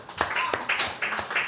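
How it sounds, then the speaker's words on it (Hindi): A school class claps for a school, a short burst of several quick, uneven hand claps close by, fairly quiet, with a little talk mixed in. "ललिता पब्लिक के लिए तालियां"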